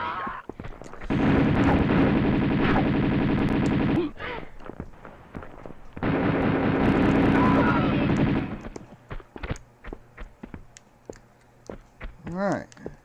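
Two long bursts of rapid automatic gunfire from the video game Tomb Raider 2, each lasting about three seconds and loud in the foreground, followed by scattered sharper single shots and clicks while someone talks.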